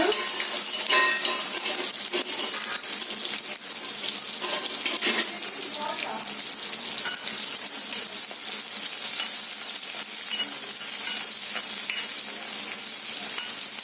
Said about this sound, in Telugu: కరివేపాకు కూడా వేసుకొని ఒకసారి కలుపుకుందాము